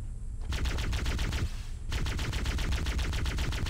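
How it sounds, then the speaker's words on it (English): Rapid automatic plasma rifle fire in Halo CE, a fast steady stream of close, loud shots with one short pause before the volley resumes, no talking over it. "Alright, this is like a faster plasma rifle"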